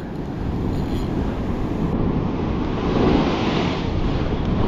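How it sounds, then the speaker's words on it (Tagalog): Big ocean waves wash and surge steadily around a fishing boat at sea, mixed with wind rumble on the microphone, loud and continuous with no talk. "Kaso laki ng alon."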